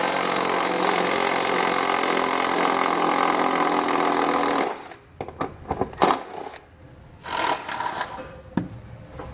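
A power tool with a 10mm socket spins heat shield bolts loose under a 2015 Lincoln MKX, running as a steady loud whir for several seconds before stopping, then scattered clanks and rattles of handling follow.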